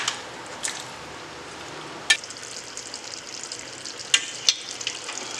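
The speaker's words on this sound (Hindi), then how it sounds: "एक बार इन दोनों को मिला के बढ़िया मसाला भुनेंगे" Masala and chicken frying together in a pan, a soft continuous sizzle broken by a few sharp clicks of a utensil against the pan, close up with no talking.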